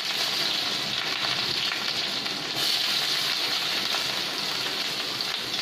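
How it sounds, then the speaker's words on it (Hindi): Onions fry in a pan with bay leaves and cumin for chicken masala, making a steady rain-like sizzle that holds at a moderate, close level the whole time. "प्याज को 2 मिनट फ्राई होने देंगे पहले।"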